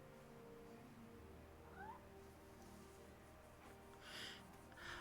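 A cat meows a few times, fairly faint and close, over quiet room tone with a low steady hum.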